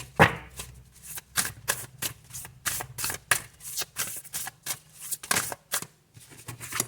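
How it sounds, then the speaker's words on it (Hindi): Tarot cards are shuffled by hand in a rapid series of crisp, papery riffles and slaps, about a dozen short bursts with brief pauses, close and clear, with no talking. "ओके, आपके लिए 2 कार्ड्स आए हैं, तो दोनों मैं ले लूँगी।"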